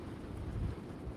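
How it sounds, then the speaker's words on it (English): Strong gusty wind ahead of a severe thunderstorm in Pittsburg, Kansas, a steady broadband roar buffeting the microphone, dense and low-heavy with no voices. "we're getting 25-mile-per-hour winds before any gusts, before the storm hits"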